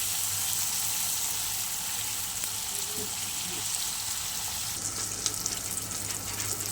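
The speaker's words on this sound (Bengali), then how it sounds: "চলো বেশ ভালো করে ভেজে নিই।" A single green chili fries in a pan, giving a steady, low sizzle that stays even and close throughout, with a slightly brighter hiss near the end and no talking.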